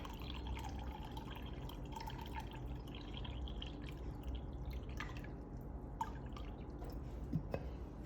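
Hot boiling water and cold water are poured in equal halves into a container while mixing focaccia dough, a steady, close liquid stream with a few sharp drips near the end.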